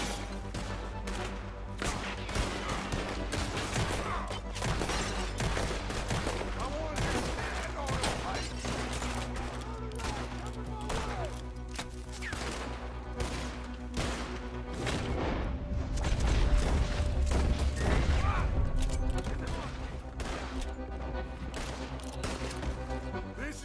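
Gunfire in Red Dead Redemption 2, dense bursts of shots and booms piling up over most of the stretch, with a heavier rumble partway through and someone talking over the shooting.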